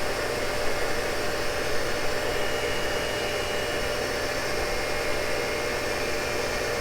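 A Cincinnati tool and cutter grinder dry-grinding Morse tapers with a coarse wheel, a steady, dense hiss of abrasive contact that holds evenly without pause.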